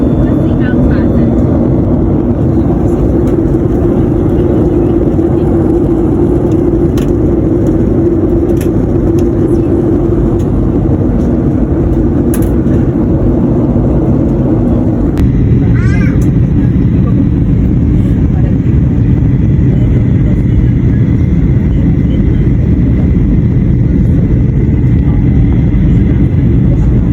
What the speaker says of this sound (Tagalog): All customers and crew must now be seated for landing with seatbelts fastened.